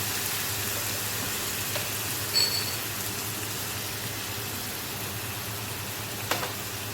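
Ginger, garlic, cumin and coriander paste with turmeric frying in a pan for a chicken dish, giving a steady, even sizzle throughout with a couple of faint clicks.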